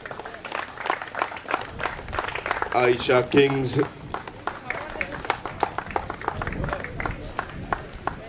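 Outdoor crowd at a cricket league opening ceremony claps in scattered, steady applause throughout, with an announcer talking over it through a loudspeaker.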